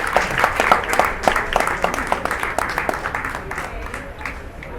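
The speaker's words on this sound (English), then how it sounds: "Give a round of applause for Oman." An audience claps steadily at a stand-up comedy show in a Muscat food court, a dense round of applause that gradually thins and fades as it goes on.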